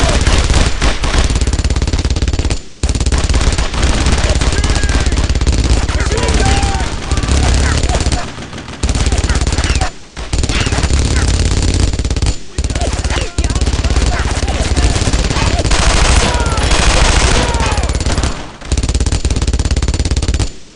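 Sustained machine-gun suppressive fire in the World War II shooter Brothers in Arms: Road to Hill 30, loud continuous bursts broken by brief pauses, with soldiers shouting orders over the gunfire.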